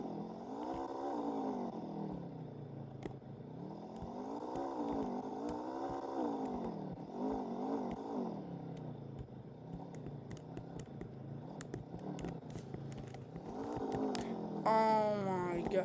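ATV engine in the video game American Plains Mudding, revving up and down in repeated rising and falling swells while churning through mud, moderately loud with some game noise near the end.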